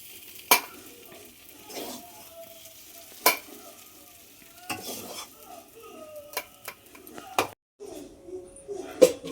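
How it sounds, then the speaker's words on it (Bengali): Taro flowers with shrimp stirred and frying in a pan, with a soft sizzle under repeated sharp scrapes and clinks of a utensil against the pan as someone talks throughout. "এখন ঘন ঘন নাড়াচাড়া দিয়ে নিতে হবে। জলটা যতটুকুনি আছে মেরে একদম শুকনো করে নিতে হবে।"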